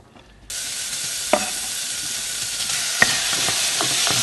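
Bacon and meatballs stir-fry in a warm pan, a bright steady sizzle that starts abruptly and runs on, broken by a couple of sharp clacks from stirring.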